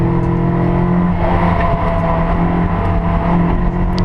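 Toyota MR2 race cars circulate at Rockingham, a steady, loud blend of engine drone and road roar heard from trackside, sustained throughout with no clear single pass-by.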